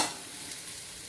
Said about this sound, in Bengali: লাল লাল করে কুমড়োগুলো ভাজা হয়ে গেছে